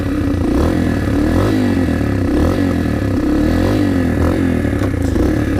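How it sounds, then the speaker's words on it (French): A cold Yamaha TTR 125 motorcycle engine running just after starting, a loud, close, steady chugging idle with clattering mechanical noise and slight fluctuations in revs. "On va la démarrer. Naturellement, elle est froide"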